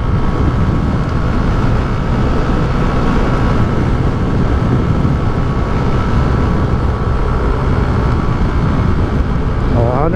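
Yamaha Neo 125 scooter, recently serviced with new filters, oil and rollers, running steadily with a loud, continuous engine drone and heavy low rumble that holds unbroken for the whole stretch, with no talk over it.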